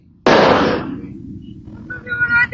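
A single loud firecracker bang goes off sharply, its blast decaying over about half a second, followed by faint mixed background noise from a rider's street setting.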